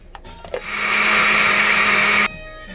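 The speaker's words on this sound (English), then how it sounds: "now that we have blended our chile" A blender whirs steadily at full speed for about two seconds while pureeing chile for a burrito sauce, starting after a few small kitchen clatters and cutting off abruptly, loud and close.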